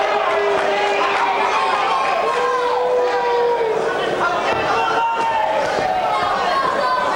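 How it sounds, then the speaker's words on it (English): Crowd at a boxing match between Lonnie Smith and Antonio Garcia reacts with a loud, steady roar of chatter and murmured voices, a dense hubbub filling the arena throughout with no single voice standing out. "And you can hear the crowd reaction."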